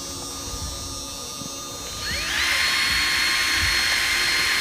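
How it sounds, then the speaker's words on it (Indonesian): Power drill bores into something during a nighttime outdoor search, its motor whining steadily and then rising in pitch as it spins up, loud and continuous over a background hum. "Atau mari saya yang ngebor."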